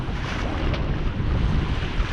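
Wind roars steadily and waves wash around an electric sailboat sailing close-hauled on the Chesapeake Bay in moderate breeze. Dense, continuous rushing noise fills the clip with no talk.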